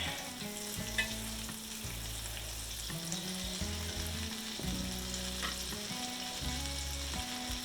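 Steady sizzling and crackling of green tomatoes frying in melted butter in a pan, continuous and close, with a low musical tone running underneath.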